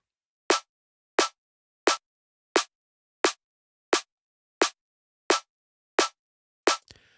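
Ten evenly spaced snare drum hits, each a sharp isolated crack with a quick decay, played back alone in a studio mix at a steady tempo with silence between strokes.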